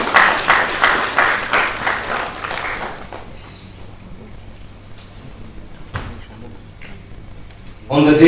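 An audience at a business conference on Africa gives a round of applause as a keynote speaker is called up, about three seconds of pulsing clapping that dies away into a quiet hall.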